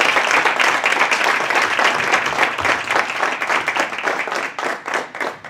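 Sustained applause from an audience at an event honoring Mexican agricultural scientists, dense clapping that carries steadily throughout and thins slightly toward the end.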